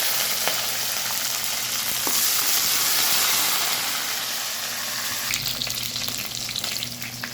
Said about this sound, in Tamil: எண்ணெய் காஞ்சிட்டு கடுகு சேர்த்துருக்காங்க, கருவேப்பிலை சேர்த்துருக்காங்க, வெங்காயம் சேர்த்துருக்காங்க